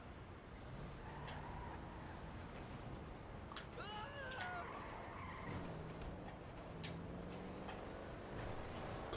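A car in Grand Theft Auto V brakes hard and skids, with tires squealing briefly over a faint, continuous engine and road rumble.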